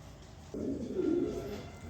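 A pair of pigeons coo close by in a courting display, one low, throaty, rolling coo lasting about a second and a half, rising slightly then fading, with no talk over it.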